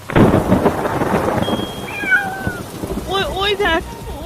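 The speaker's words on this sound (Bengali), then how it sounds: "ওই দেখ চিপটি বিড়ালটা ডেকে উঠলো" A cat lets out a few loud, wavering meows near the end, following a heavy rumbling, thunder-like roar and a thin whistling tone.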